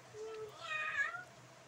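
A cat indoors in a bedroom gives a single drawn-out meow, faint and close, rising then falling, over quiet background with no talk during the call.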